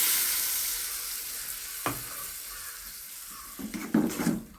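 Tomato curry mixture hits a hot pan with a steady, close hiss of sizzling, with a couple of brief splashy bursts toward the end and no talking.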